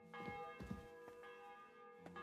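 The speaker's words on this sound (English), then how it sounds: "The bell's ringing for Hans the 5th time." A church bell in Kingdom Come: Deliverance II rings in a few spaced, resonant strikes that leave a lingering hum, fairly quiet and heard alone.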